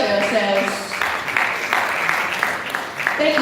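An audience applauds at a slum and rural health initiative event, a dense wash of clapping that carries throughout at moderate distance, with voices mixed in.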